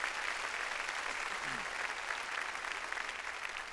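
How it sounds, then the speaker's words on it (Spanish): A church congregation claps loudly and steadily throughout, a dense continuous applause during a Sunday service with no speech over it. "Démosle palmas fuertes a nuestro Señor."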